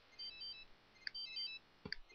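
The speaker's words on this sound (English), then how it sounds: "Whose phone is ringing?" A cell phone rings in The Sims 3 Seasons, two short electronic chirping bursts heard faintly over quiet game background.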